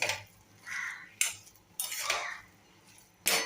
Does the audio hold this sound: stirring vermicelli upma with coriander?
yes